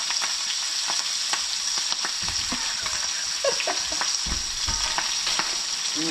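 Tomahawk steaks sizzle in a pan in a remote cabin, a continuous bright frying hiss with scattered pops and crackles and occasional scraping clunks.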